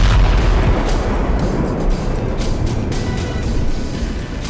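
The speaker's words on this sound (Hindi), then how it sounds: "बम धमाके से भर भरा कर ढहती बहुमंजिला इमारत" Heavy explosion booms from bombing of multistorey buildings in the Gaza war zone, a dense continuous rumbling roar with deep low-end weight, loud throughout with no speech.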